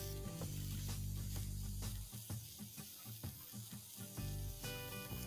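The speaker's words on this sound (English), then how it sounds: "Now I'm going to let this cook for about 2 minutes on one side" Zucchini grilling on a grill pan gives a steady, faint hiss and sizzle with scattered small pops and crackles, continuous over a low background hum.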